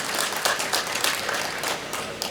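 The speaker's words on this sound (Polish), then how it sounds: "Brawa jeszcze raz dla tych kolegów." Applause from an audience at a regional racing pigeon exhibition awards ceremony in Kielce, honouring prize-winning breeders; steady, dense clapping fills the clip at moderate distance.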